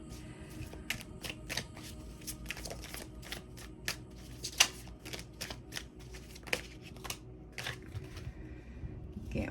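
Tarot cards are shuffled overhand in quick irregular bursts of crisp flicks and slaps, close and fairly quiet, repeating across the stretch with brief gaps and no speech.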